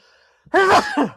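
A man sneezes once nearby, a sharp burst that trails off into a brief second exhalation, with near silence before it.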